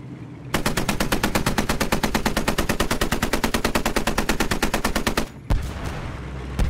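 A Browning .50 caliber machine gun firing one long sustained burst of rapid, evenly spaced heavy shots, loud and close, followed by a brief pause and a lingering rumble.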